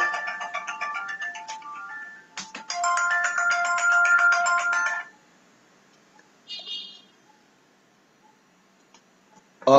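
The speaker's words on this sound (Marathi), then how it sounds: "सॉरी, जरा फोन करता माफ करा, एक अचानक फोन मध्ये आला." A melodic phone ringtone plays for about five seconds, announcing an incoming call, with a short pause in the middle, then breaks off into near silence broken by faint clicks.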